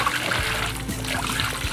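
Dissolved fertilizer solution poured over a plant, a steady watery trickle and splash lasting a couple of seconds without pause, close and moderately loud.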